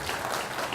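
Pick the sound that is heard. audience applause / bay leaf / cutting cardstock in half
audience applause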